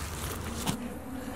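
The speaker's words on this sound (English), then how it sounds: "That looks like a giant wasp. It's murder hornets!" A giant wasp, called a murder hornet, gives a steady, close insect buzz that runs without a break.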